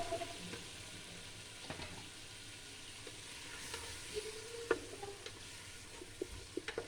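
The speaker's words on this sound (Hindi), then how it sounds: "गोभी को हमने अच्छे तरीके से फ्राई कर लिया।" Cauliflower and potato sabzi fries in a pan with a steady, quiet sizzle, broken by occasional clicks and taps of a stirring spoon against the pan.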